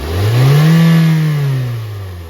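A car engine is revved once in a MAP and MAF sensor test, its pitch swelling up and then easing back down over about two seconds, loud and close with no talking.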